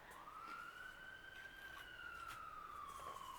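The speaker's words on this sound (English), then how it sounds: "Gotta love a siren in the middle." A distant siren wails in one long, slow rise and fall, faint and steady against a hissing background.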